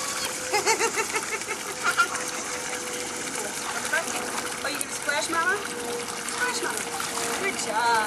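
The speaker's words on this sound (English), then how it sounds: "What are you going to do with all that water?" Water splashing and trickling in a backyard pool as a small child plays, moving in a steady wash of splashes, with an adult talking over it throughout.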